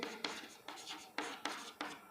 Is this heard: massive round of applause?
no